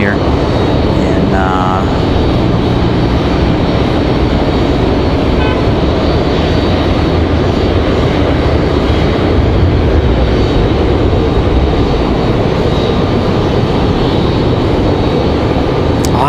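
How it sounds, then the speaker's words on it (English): A Spirit Airlines jet taking off at Raleigh-Durham International airport gives a steady, loud, continuous engine roar throughout, with a short tonal toot early on. "Spirit Airlines took off a moment ago."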